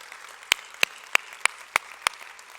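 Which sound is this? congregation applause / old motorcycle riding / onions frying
congregation applause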